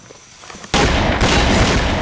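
A sudden loud grenade blast bursts in after quiet, followed by a rumbling second boom, in the Roblox game The Wild West.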